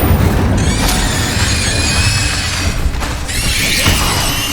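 Magic spells burst and crackle in combat in Hogwarts Legacy, loud booming impacts layered with bright whooshing streaks and bursts, continuous action with no speech.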